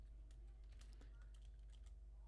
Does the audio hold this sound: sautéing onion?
no